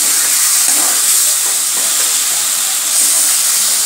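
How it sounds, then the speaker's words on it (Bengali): Loud, steady hiss and sizzle of water hitting a hot pan of fried potatoes while cooking a rohu fish curry, a continuous broadband steaming roar with no talking. "এবার আমি জল দিয়ে দেবো,"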